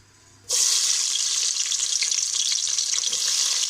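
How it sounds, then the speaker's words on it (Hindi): Onions dropped into hot oil in a pan burst into a loud, steady hiss of frying that starts abruptly after a near-silent moment and keeps going, close and uninterrupted. "तेल गर्म हो चुका है, अब हम इसमें प्याज डाल लेते हैं"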